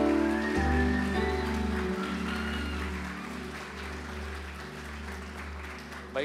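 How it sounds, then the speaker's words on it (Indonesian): Closing-session audience at a church retreat applauding in appreciation, a soft wash of clapping beneath a sustained, droning musical tone that holds throughout. "Boleh untuk tepuk tangannya semuanya."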